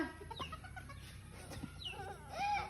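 Chickens cluck and squawk nearby in short, scattered bursts, with a louder flurry toward the end.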